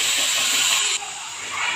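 Rice grains frying in a pan for a beef tehari, giving a loud, steady steam-like hiss that drops suddenly partway through and continues more softly.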